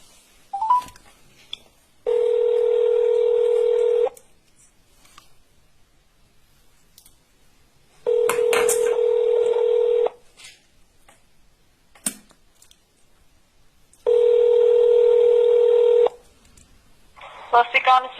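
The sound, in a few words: telephone dialing tones calling police number 102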